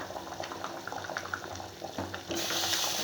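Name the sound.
dosa batter sizzling on a hot oiled griddle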